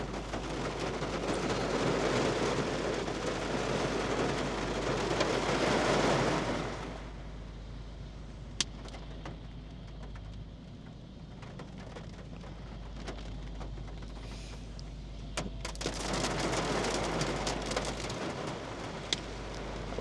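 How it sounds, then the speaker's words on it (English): Heavy rain pours down outdoors in a dense, steady hiss that swells loudly for several seconds, eases off, then surges again, with a few sharp drips and knocks standing out. "this rain is crazy out here right now. It's pouring."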